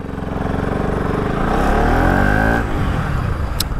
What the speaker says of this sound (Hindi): तो चलो व्हीली व्हीली देते हैं थोड़ा